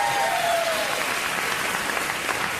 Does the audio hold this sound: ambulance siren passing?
no